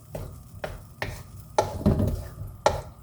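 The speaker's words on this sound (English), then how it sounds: "I'm gonna give that a nice stir." A spoon stirring vegan chicken korma made with plant-based meat in a sizzling pan, irregular scraping strokes and clinks over a soft, steady frying hiss, close up with no talking.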